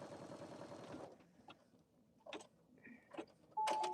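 A sewing machine satin stitches with wiry metallic thread: about one second of fast, buzzing stitching, then stops and gives scattered clicks, taps and a short electronic beep.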